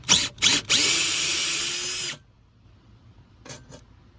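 Power tool removing 8mm bolts from a metal plate on a Ford Ranger: two short bursts, then a sustained whirring run of about a second and a half, and two faint brief bursts later.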